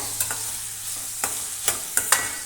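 Green chillies and curry leaves sauté with onions in a pan for egg masala roast, a soft constant sizzle broken by about six quick spoon scrapes, near and fairly quiet, with a faint low hum and no voices.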